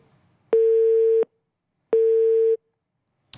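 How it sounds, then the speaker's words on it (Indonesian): Telephone line tone after a call cut off: two loud, steady beeps of equal pitch, each lasting under a second and separated by a short silent gap, heard alone. "Tampaknya sambungan kami untuk kepada Kasih Opsar Padang Henry untuk memperbarui informasi terputus"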